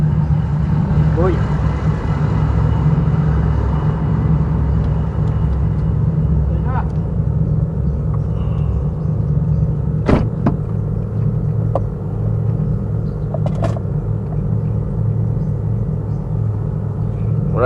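The engine of a Hyundai Genesis sports car idles with a deep, steady low rumble throughout, heard close up, with occasional sharp clicks and knocks over the top.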